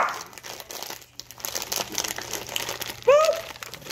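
A chip bag being rolled and folded down gives continuous close crinkling and crumpling of foil-like plastic for several seconds, with a louder crackle near the end and no talking.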